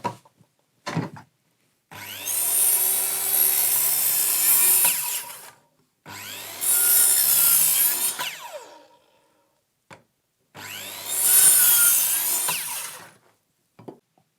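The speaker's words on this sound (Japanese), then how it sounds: "丸のこ入れます。" A circular saw cuts into a timber joint for traditional Japanese carpentry, with three loud, high-pitched whining cuts of a few seconds each, separated by brief quiet gaps and a few knocks.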